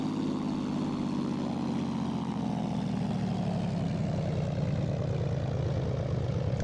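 A Zlín Z-142 light aircraft engine in X-Plane throttles back to idle, its propeller drone steadily dropping in pitch and easing into a lower, pulsing idle hum, continuous and close.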